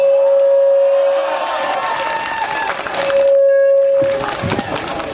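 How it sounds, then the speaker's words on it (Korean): Applause and cheering rise from a crowd at a political rally for a party candidate, a dense wash of clapping under a sustained PA tone that cuts out briefly and returns. "맞다고 생각하시면 박수 한번 부탁드립니다."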